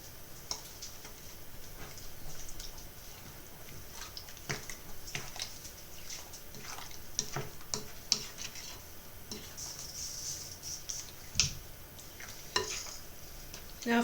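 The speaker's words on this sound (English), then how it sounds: "now we're going to mix that all in" Cherry pie filling with tapioca stirred in a bowl, making soft wet scraping and irregular ticking clicks of the utensil for about fourteen seconds, fairly quiet and close, with no talk.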